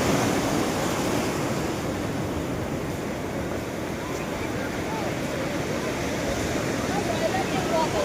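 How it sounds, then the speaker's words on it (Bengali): Sea waves surge and crash on the beach at Puri in a continuous loud roar and hiss, with wind buffeting and faint voices blending into the surf. "কোথায় চলে আসছে দেখো ঢেউ"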